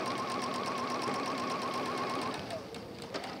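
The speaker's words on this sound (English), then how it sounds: "I'm just going to come back to sewing here and just gradually, as if you were sewing a dart" A sewing machine runs steadily through lining fabric with a high, even whine, then slows and stops near the end, leaving quieter handling sounds.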